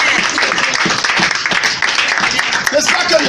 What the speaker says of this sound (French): Applaudissez à Dieu.